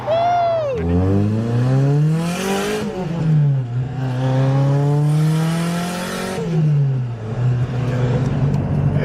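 A Nissan Silvia S15 drift car engine revs hard and loud, rising and falling in pitch through several sustained high-rpm pulls, with no talk over it.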